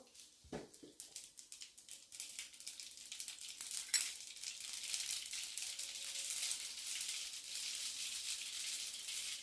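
Mustard seeds dropped into hot oil in a pan, a faint crackling sizzle rising after a brief clatter and holding steady, with no talking.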